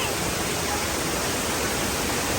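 Aguinid Falls in Cebu, a multi-level waterfall, pours as a steady, dense broadband roar close by, continuous and unbroken throughout with no voices over it.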